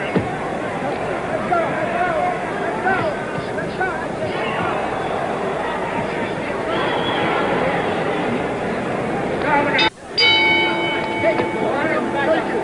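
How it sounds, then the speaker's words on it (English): A boxing ring bell rings out at about ten seconds to start round 9 of the Muhammad Ali versus Ken Norton bout at the San Diego Sports Arena, its bright ringing tone sitting above a constant roar of crowd babble. "The bell for round 9."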